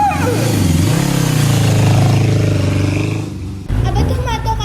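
A motorcycle engine revs loudly in a staged radio drama, its pitch rising and swooping, then cuts briefly before returning, with voices speaking over it.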